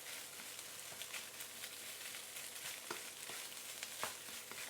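Lap cheong fried rice with cured sausage being stir-fried in a wok, a steady, faint hiss of sizzling with frequent light scraping and tossing clicks, no voices.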